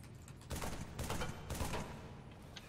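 Gunfire in Halo 3 aimed at a bomb: several quick bursts of rapid shots, fairly quiet, following one another over a few seconds.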